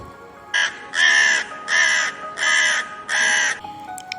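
A crow caws four times in even succession, loud and close, each harsh call lasting about half a second with short gaps between, over a quiet background.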